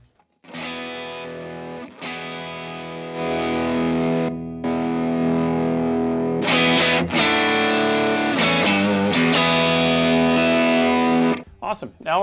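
Overdriven electric guitar played through a MIDI-controlled overdrive pedal with treble up and bass cut, sustained, gritty chords with a bright, treble-heavy edge, loud and close, with a few brief breaks between strums.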